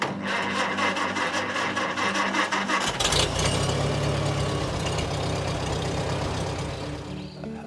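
An old garden tractor engine catches partway through and settles into a steady mid-pitched running hum, heard up close with no talking.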